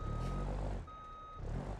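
A road train truck in BeamNG.drive sounds a steady, repeating electronic reversing beep over a low diesel idle, close and continuous.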